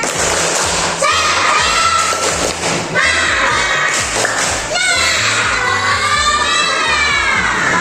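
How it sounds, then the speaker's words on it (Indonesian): A class of schoolchildren performs a rhythmic clapping chant, steady patterned claps under loud, continuous children's voices chanting together in a room. "Tepuk semangat"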